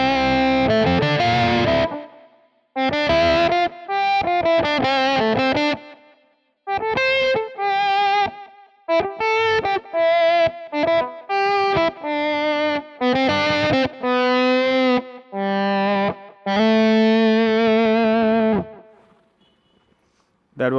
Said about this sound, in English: That was the tone fully rolled off on the bridge.